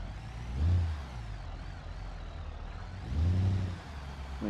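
A truck engine in the BeamNG.drive driving game labors and bogs down, rising in two strained revving swells that fade back to a low idle-like drone.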